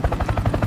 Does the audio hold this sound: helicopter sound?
yes